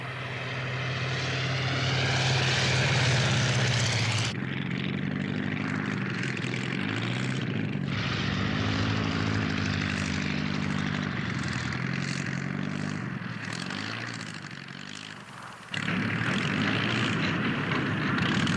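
Propeller airplane engine in a French animated cartoon, a loud droning buzz with shifting pitch that cuts between steady passes and swooping changes, no talk over it.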